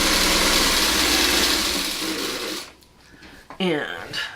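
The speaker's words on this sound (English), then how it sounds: "let's get the rest of this sewn up together here" A sewing machine stitching fabric pieces together for a sew-along project: a fast, steady close-up whir that slows and stops midway, followed by someone speaking.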